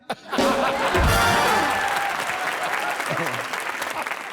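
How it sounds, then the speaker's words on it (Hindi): A studio audience at a comedy talk show bursts into loud, sustained applause after a brief pause, holding steady and dense for several seconds before easing slightly. "ठोको ताली"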